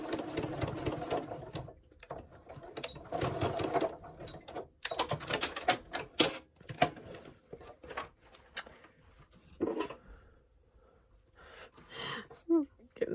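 A sewing machine top-stitches an oven mitt in bursts of fast, steady motor whirring with short pauses between runs, close and fairly loud, with a few faint breaths and small handling noises in the gaps.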